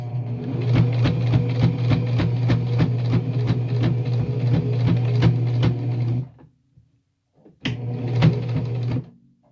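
A sewing machine stitching small two-inch cathedral quilt squares, loud, rapid, even needle clatter close by that stops for a moment and then runs again in a shorter burst.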